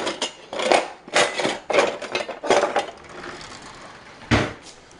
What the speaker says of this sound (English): Let me get a spoon and we'll stir that up